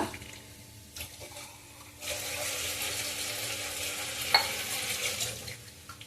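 Water pours and splashes into a bowl while masala for matar paneer is stirred and mixed, a steady wet churning sound with a brief clink midway.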